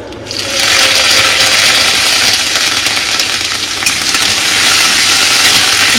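Washed curry leaves dropped into hot oil already holding dried red chillies and spices, setting off a loud, continuous crackling sizzle right up close, with no one speaking.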